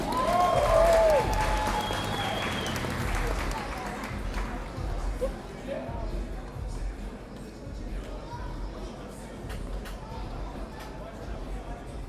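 Applause and crowd noise fill a youth fight league title event; a voice speaks briefly at the start, then a loose spread of clapping and chatter carries on at a moderate level with scattered sharper claps.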